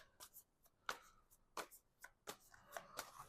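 Tarot cards are shuffled by hand in quick, crisp riffles and flicks, about eight short bursts spread unevenly, close and quiet with no talking.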